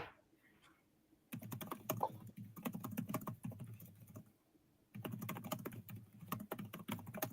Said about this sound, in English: I guess I should have muted myself when I was clicking on the keyboard